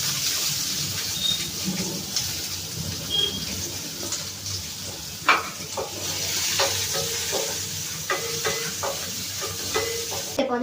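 Onions sizzle steadily in hot oil with curry leaves and green chillies for egg podimas, a constant close frying hiss broken by occasional scrapes and taps of a spoon stirring the pan.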